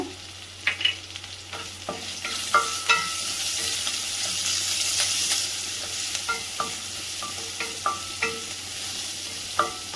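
Garlic, dried buttermilk chillies and curry leaves sautéing in hot oil for a South Indian sambar, a steady bright sizzle broken by repeated close spoon scrapes and taps against the pan, no voices.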